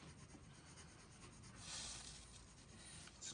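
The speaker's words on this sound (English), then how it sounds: "I'm just going to check my pencil for some dark tones," Graphite pencil shading dark tones on paper for a sphere drawing, a faint steady scratchy rubbing with a slightly stronger stroke midway, quiet and close with no voice.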